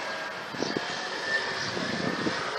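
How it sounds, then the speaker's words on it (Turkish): Steady, roaring wind noise fills the clip, a continuous broadband rush with faint low thumps and rattles underneath, no voices. "rüzgar, fırtına"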